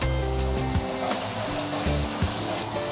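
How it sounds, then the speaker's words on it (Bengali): Masala for a spicy dhaba-style chicken curry sautéed in a pan with splashes of water: a continuous close sizzle and crackle, with a steady tonal hum running beneath, no voices. "তাহলে হালকা হালকা জল দিয়ে মশলাটাকে আপনারা কষে নেবেন।"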